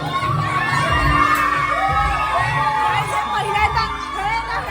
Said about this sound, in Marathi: अरे वर बघा काय जल्लोष चालू आहे.